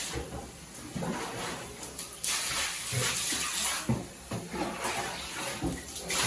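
Water runs and splashes steadily nearby, with occasional knocks and clatter over the continuous gushing.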